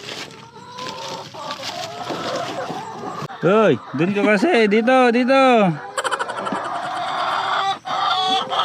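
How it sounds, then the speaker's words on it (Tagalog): Hens cluck and a rooster crows loudly at close range on a farm, with several drawn-out calls in a row, while a person talks among the birds. "Ganon talaga mga manok minsan."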